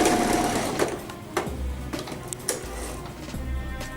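A sewing machine stitches a waistband, running in several short bursts of rapid mechanical whirring separated by brief pauses, moderately close with no talking.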